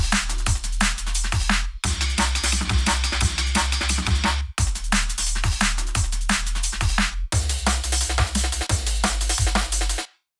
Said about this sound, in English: if we quickly listen to it all together with a bit of reverb on the snare,